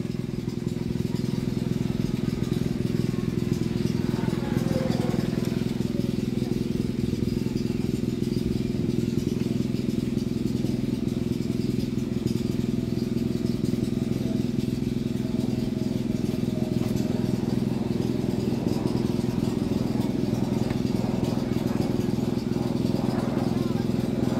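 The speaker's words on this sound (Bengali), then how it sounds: "আমার ইলেকট্রনিক মোটরসাইকেলটি নিয়ে যাচ্ছি কালিয়াকৈরের দিকে" Riding an electric motorcycle along a village road toward Kaliakair, with a steady, continuous wash of wind and road rumble and only a low hum underneath, with no engine roar, throughout.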